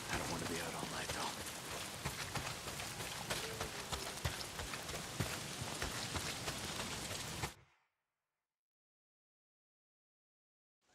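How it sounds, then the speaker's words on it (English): Heavy rain pours down steadily in the video game Days Gone, a dense, even hiss close by that stops abruptly, followed by silence. "Not if it's pissing down rain."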